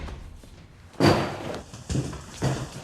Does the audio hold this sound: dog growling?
no